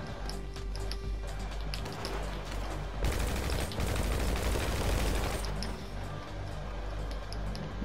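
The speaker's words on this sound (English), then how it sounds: "Let me get out of here and try shooting." Rapid automatic gunfire in GTA 5 Online, a dense continuous volley in the middle stretch framed by quieter clicks and ticks before and after, close and loud without talking.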